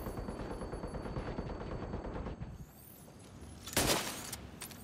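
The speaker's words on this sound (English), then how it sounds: "I shoot one with my sniper" A single sharp sniper rifle shot in a military video game rings out near the end, loud and alone over a low steady background hum.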